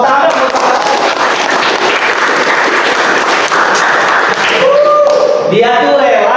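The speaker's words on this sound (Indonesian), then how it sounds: "Tepuk tangan." A class applauds a classmate praised for cleaning the room every day, a sustained clatter of clapping from a room of students that thins out near the end as a voice starts talking.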